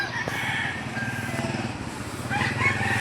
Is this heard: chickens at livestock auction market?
yes